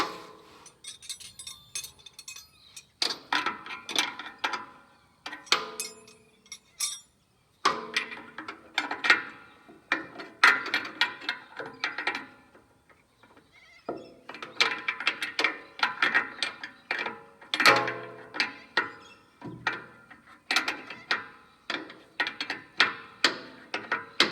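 Metal clinks and ratcheting from a spanner working on a Mack F600 truck, with bursts of clicking turns, taps and clanks that come in irregular clusters separated by short pauses, close by and with no talk.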